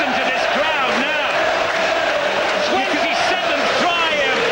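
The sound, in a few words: rugby league crowd at Warrington v St Helens match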